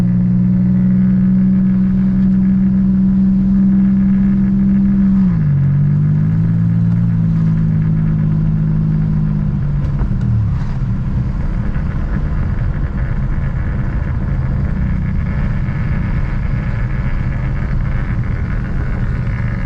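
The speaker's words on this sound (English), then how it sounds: "That back tyre still sounds like it's very flat." A loud, steady car engine rumbles close by, its low drone shifting pitch midway as the car rolls on a flat rear tyre, with an uneven rough undertone throughout.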